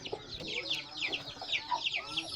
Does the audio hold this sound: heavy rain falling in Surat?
no